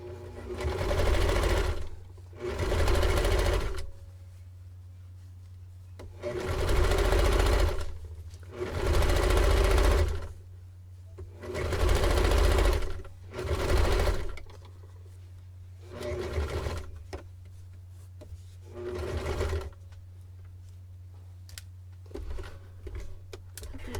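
Sewing machine stitching a 5/8 inch seam allowance through fabric: repeated bursts of steady motor whir and needle chatter, about eight runs of a second or two each, separated by brief pauses, close and alone.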